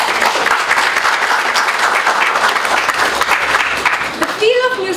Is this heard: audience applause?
yes